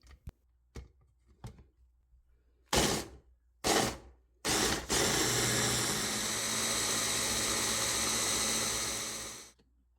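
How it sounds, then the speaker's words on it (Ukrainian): A few sharp knocks and clatters, then an electric hand mixer whisking pumpkin with egg yolks whirs loudly and steadily for several seconds before cutting off. "збиваємо гарбуз разом з жовтками"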